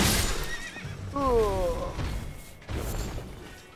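Horse whinnying in Elden Ring, one clear neigh rising and wavering over a second amid game sounds, with low thuds and clatter around it.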